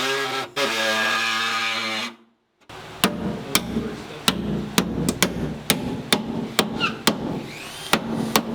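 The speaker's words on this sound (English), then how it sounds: "Got my air hammer." An air hammer strikes in quick separate hits, irregular and close, while fitting a plastic wide body kit to a BMW E46 sedan. A droning tone and sudden silence come before the hits.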